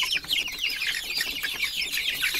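Around sixty young chicks of a meat breed make a dense, continuous chorus of high peeping and clucking, close and steady.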